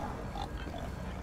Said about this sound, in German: Ich habe hier noch nie Schweine gehört.